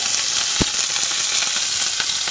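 Roughly chopped onion sizzles in hot oil in a kadai, a loud, close, steady hiss with a few faint pops scattered through it.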